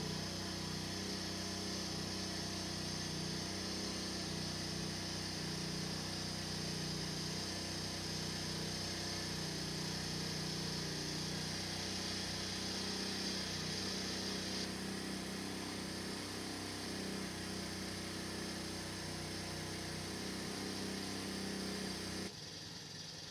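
A four-year-old string trimmer engine idles steadily while warming up. Its high, buzzing drone holds constant and loud for the whole stretch, with no voices over it.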